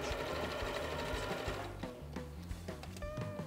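A domestic sewing machine runs close up, stitching a straight seam in rapid mechanical bursts with short pauses between runs, and no voices.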